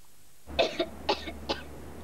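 A child coughs several times in quick succession, three distinct bursts over a low background hum, set in a UK television advert for children's cough medicine.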